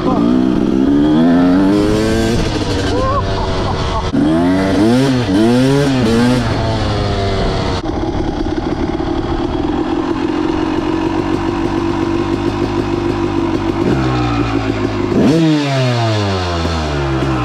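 A 250 CR motorcycle engine revs loudly and continuously during a test run, climbing and falling in pitch with repeated throttle blips, then holding a steadier drone before further sharp revs near the end.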